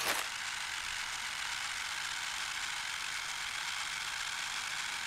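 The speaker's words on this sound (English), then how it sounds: "they literally have an RC engine noise in here" A radio-controlled car engine in the Rock Pass 2 game whines as a steady, loud high-pitched buzz, running alone and unbroken throughout.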